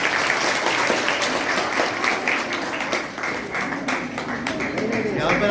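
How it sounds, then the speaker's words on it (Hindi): Audience applause at a women's college event in Jaynagar: dense, steady clapping from many hands filling the whole stretch, with some voices mixed in. "एक बार जोर से ताली बजा करके सर का"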